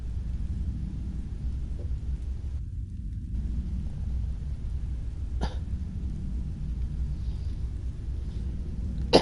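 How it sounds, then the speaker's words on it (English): A person coughs a couple of times in short sharp bursts over a steady low rumbling hum while playing the horror game Amnesia: A Machine for Pigs. "So much coughing."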